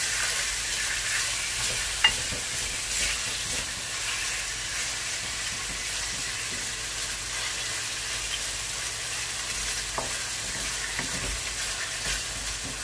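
Pork belly pieces for Bicol Express fry in a pan with a steady, even sizzle, a few brief clicks of stirring cutting through, alone with no voices.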